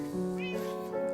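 Cats meowing in Minecraft, a couple of close, clear mews overlapping briefly within about a second.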